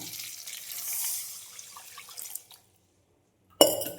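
Water poured into a pan of sautéed onions makes a steady close rushing splash for about two and a half seconds, then stops, and a short sharp clatter follows near the end.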